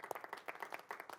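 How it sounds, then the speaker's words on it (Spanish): A church congregation gives a short round of clapping after a prayer, faint individual hand claps in an uneven rhythm with no talk over them. "Damos un aplauso, papá."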